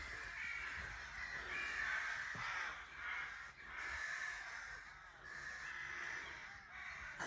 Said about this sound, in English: non-stop crow waffle